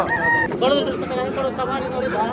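Chickens cluck and squawk in a busy country-chicken market in Araku, harmonic calls rising over a steady background of crowd chatter and people talking nearby.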